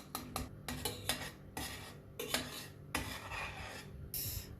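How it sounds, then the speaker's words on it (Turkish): Eggs cracked into melted butter in a pan, with close scraping and clinking of a utensil against the pan in irregular bursts and a faint sizzle underneath, quiet overall and without speech. "Şimdi yumurtalarımı içine kırıyorum."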